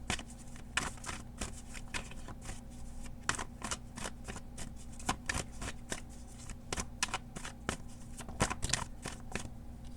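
Tarot cards shuffled by hand, giving a steady run of close, crisp riffling flicks and slaps for several seconds, with a slightly louder flap near the end as a card falls out.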